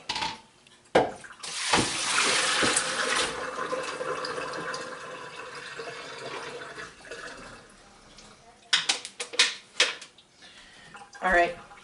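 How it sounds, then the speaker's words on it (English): Water pours and splashes as brine is drained off northern pike pieces being prepared for pickling, a sustained close gush followed by intermittent splashes and drips, with a person talking. "Now we're going to drain our fish, bring it over, and start packing."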